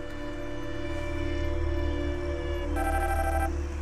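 A telephone rings in a movie scene, its bell tone holding steady over a low background hum, then a brighter, higher ring layer joins near the end.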